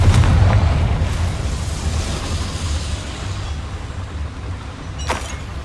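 The Confringo blasting spell detonates in Hogwarts Legacy with a heavy, close boom that rolls off into a long rumbling decay, followed by a smaller sharp crack near the end.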